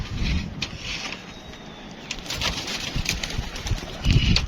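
Pigeons at a rooftop loft give soft, intermittent coos and fluttering bursts, heard close against mechanical rattling and rustling background noise.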